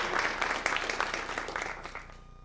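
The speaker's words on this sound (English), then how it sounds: "can we get one more round of applause?" A brief round of audience applause at a student climate summit, dense clapping that thins and fades out within a couple of seconds.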